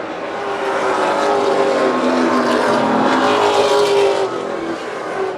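Stock cars racing at the Coastal 200, a dense, loud roar of several engines that swells and fades as the pack passes, with no voices over it.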